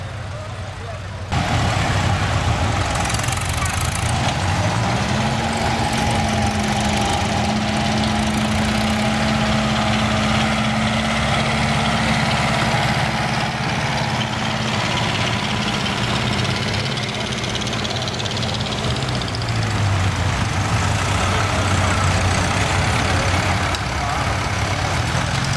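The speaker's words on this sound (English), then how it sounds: "Our visit coincided with a Massey Ferguson vintage tractor rally." Vintage Massey Ferguson tractor engines idle and chug at a rally in Finland, a steady low mechanical drone with shifting engine pitches, heard under talking voices and outdoor crowd noise.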